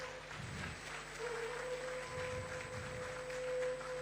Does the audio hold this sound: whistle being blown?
no